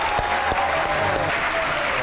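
Studio audience applause welcoming guests onto a comedy talk show, a brief, steady wash of clapping from a crowd with a couple of sharper claps standing out.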